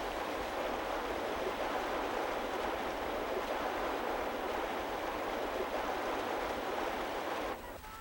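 Steady, broadband rush of a waterfall north of the Arctic Circle, continuous and fairly loud, with no voices; it dips slightly near the very end.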